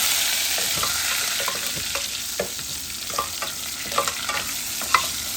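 Garlic and curry leaves sizzle and crackle steadily in hot oil in a pan, with scattered pops and a few light stirring scrapes throughout.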